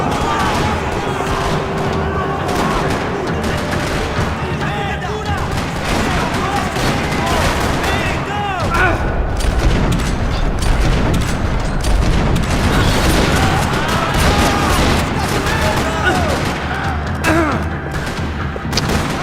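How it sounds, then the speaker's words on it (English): Gunfire from the video game Max Payne 3 in a parking lot, dense rattling bursts and booms going on throughout at steady loudness, with game music and effects mixed underneath. "Another parking lot rattling with gunfire."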